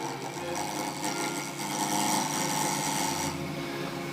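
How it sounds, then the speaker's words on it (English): A fast-spinning wood lathe with a tool easing the sharp corners off an African Zebrano pen blank, giving a continuous scraping, rasping whir close by, with no talk. "I tend to spin the lathe up quite fast, and I'll take the sharp corners off first on each end"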